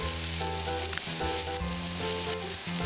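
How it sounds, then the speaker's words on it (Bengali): Chopped onion frying in a pan for a Bengali sweet pumpkin mash, giving a loud, continuous, close sizzle with a steady crackle throughout and no talking. "পেঁয়াজটা আমি ভালো করে ভেজে নেবো, লাল লাল করে।"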